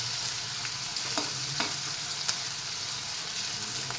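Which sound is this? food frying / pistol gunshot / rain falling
food frying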